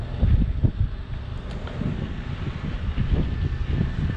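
Wind buffets a microphone outdoors on a farm during slurry transport, a steady loud low rumble with gusty thumps throughout.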